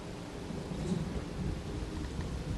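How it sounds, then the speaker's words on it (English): Steady rain with rumbling thunder fills an outdoor mission in the XCOM 2 video game, a continuous wash of rainfall and low rolling thunder with no voices. "And it's raining."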